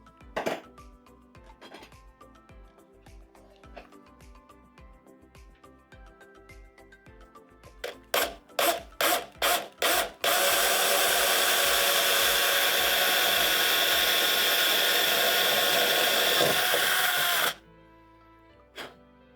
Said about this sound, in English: And now it's time to hit it with the drill.